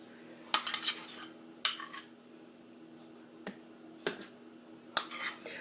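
Turkey meatloaf mixture spread into baking pans with a metal utensil, giving five sharp scraping clicks and taps at uneven intervals, close and fairly quiet, with soft scraping between them and no voices.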